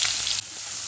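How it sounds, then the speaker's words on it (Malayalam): Thinly sliced garlic and chopped onion sautéing in hot oil in a pan for a buttermilk curry with drumstick leaves, a short bright hiss of sizzling, loud and close, alone. "രണ്ട് വെളുത്തുള്ളി കനം കുറച്ച് അരിഞ്ഞത് കുറച്ച് ഉള്ളിയും കൂടി അരിഞ്ഞ് ചേർത്തൊന്ന് വഴറ്റി കൊടുക്കാം"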